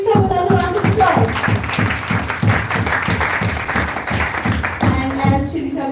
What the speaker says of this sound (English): Let's give Prabhu another round of applause.